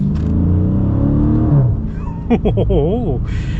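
A Chrysler 300C with a 6.4-litre Hemi V8 rumbles deep and loud up close, then rises and falls through a few quick revs as a voice cuts in over the engine.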